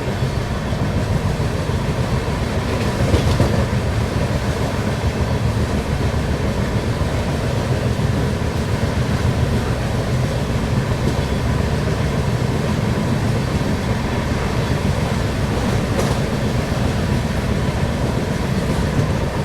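The Kashi Vishwanath Express accelerates on its run toward Moradabad, heard from on board as a continuous loud rumble of wheels and carriages with a steady rolling drone and no voices.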